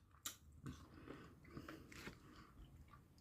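Close crunching bites and chewing of homemade ice cream made from frozen fresh fruit, a few distinct crisp bites followed by softer mastication, quiet and without talk.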